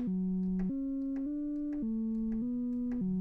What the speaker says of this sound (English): The pulser is going to trigger the sequencer, and we'll hear these five different tones.